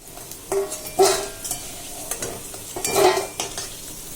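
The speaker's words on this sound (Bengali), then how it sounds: "কচুটাকে তাড়াতাড়ি করে ভেজে তুলে নিলাম" Taro (kochu) fries in a pan, with steady hiss and sizzle and a few louder scrapes and stirs from a utensil against the pan. There is no talking.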